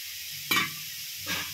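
Chicken and broccoli stir fry stirred in a pan, with two brief close scraping strokes over a low sizzle, no voices.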